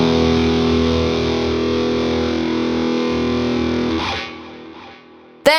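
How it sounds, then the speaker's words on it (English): An electric guitar plays a sustained, distorted chord through a room reverb set to 70% dry and 30% wet, ringing loud and steady before decaying into a short reverberant tail and a sharp final pluck. "I'm going with a room reverb because I want something that adds some space but isn't too heavy."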